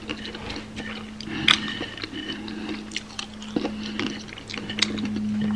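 Close, crunchy chewing and biting of Nepali masu chiura, flattened beaten rice with meat, during an eating show, with irregular bites, soft clicks and a faint steady hum in the background.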